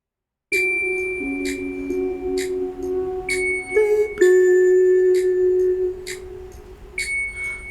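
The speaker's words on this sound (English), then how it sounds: "First we have like the clock from the music box." A delicate music-box melody tinkles over a steady ticking, with chiming tones repeating in a slow, even rhythm.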